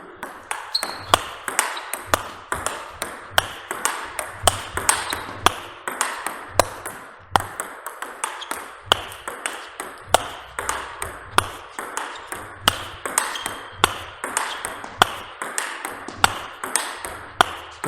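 A table tennis ball strikes a bat faced with VICTAS V-22 Double Extra rubber in a steady rally of sharp, crisp pings, roughly two hits per second throughout, close and clear.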